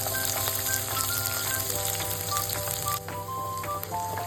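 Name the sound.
green chillies and onion frying in oil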